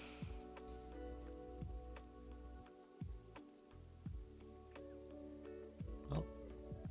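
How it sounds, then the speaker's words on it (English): Rain falls steadily in a video game roleplay scene, a soft continuous patter with occasional sharper drops, faint under a low droning background. "It's raining."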